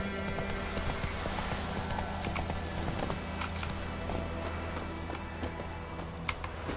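Roach, Geralt's horse in The Witcher 3: Wild Hunt, trotting with a steady clip-clop of hooves beneath a constant low hum of ambient game music and background noise.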